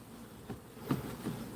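Honey bees at an opened hive during an inspection, giving a soft, steady insect drone with a few slightly louder swells as bees pass close, faint and low-level throughout.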